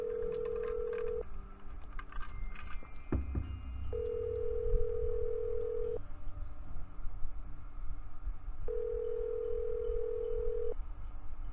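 An unanswered phone call in a Nancy Drew mystery video game sounds as repeated long electronic ringback tones separated by pauses, steady and clear over a faint background with some clicks.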